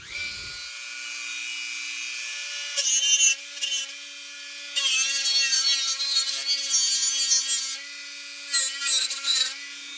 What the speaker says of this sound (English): We'll go ahead and sand right up in there.